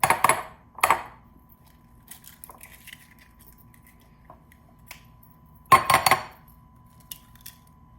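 Eggs are beaten in a separate bowl in a kitchen, heard as a few short bursts of metal clinking against the bowl, separated by long quiet gaps with faint tapping.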